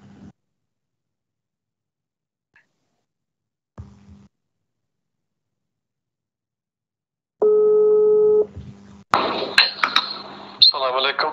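A telephone line tone sounds once as a steady, buzzy electronic tone lasting about a second, after near-silence with faint clicks. Voices then begin speaking over the call line.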